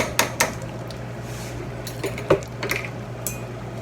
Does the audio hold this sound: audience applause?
no